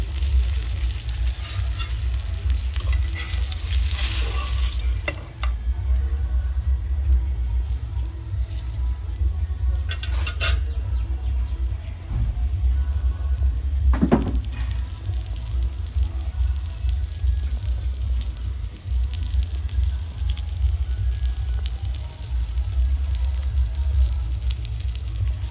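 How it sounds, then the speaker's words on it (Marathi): Pomfret fish fries in a pan at a Konkani restaurant, giving a steady, moderately loud sizzle that runs the whole time. A few brief clatters rise above it now and then. "मस्त आपलं पापलेट फ्राय होतं इथे."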